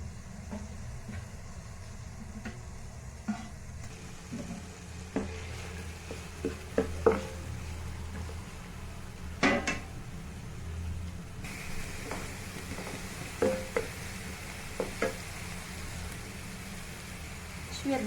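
Onion, garlic and hot pepper fry in butter in a pan, a low steady sizzle broken by scattered clicks and knocks of a utensil, close and fairly quiet, with someone speaking over it.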